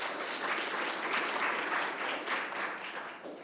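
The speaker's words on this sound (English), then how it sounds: "give yourselves a round of applause for the work that you have done to make that happen" A university student-success kick-off audience applauds, a dense wash of clapping that holds steady and then thins out near the end.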